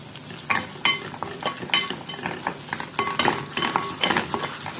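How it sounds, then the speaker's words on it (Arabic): Tomato paste sautéing with onion in a pot, a soft steady sizzle broken by repeated scraping strokes of a spoon against the pot, close and fairly loud with no talking. "هشوحهم بقى كده مع البصله"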